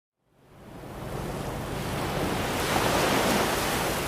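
Rough sea waves on a Goa beach under a full moon swell up from silence into a loud, continuous wash of surf with wind, building steadily and staying strong to the end.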